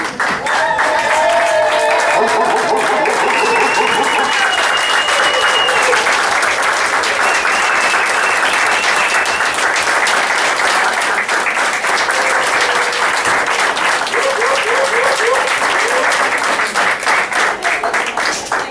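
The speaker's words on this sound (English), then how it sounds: "Why don't we all just stand up and give Terry a standing ovation?" Sustained, loud applause from a standing crowd at a 60th birthday party for Terri, dense clapping filling the whole stretch with a few voices calling out above it.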